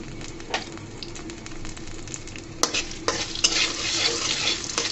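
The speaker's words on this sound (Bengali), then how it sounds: "শুকনো মরিচগুলোকে ভালো করে ভেজে নিতে হবে।" Close sizzling of dried red chillies frying in mustard oil, a continuous crackle with sharp pops and stirring clatter, growing louder and busier in the second half.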